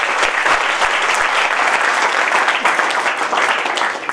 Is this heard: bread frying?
no